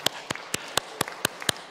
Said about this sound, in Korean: 우리 박수 한번 주십시다